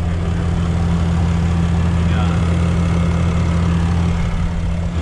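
A 2020 Ram 3500 with the 6.7-liter Cummins high-output diesel idles with a steady, deep low rumble and an even drone, close by with no other sounds on top.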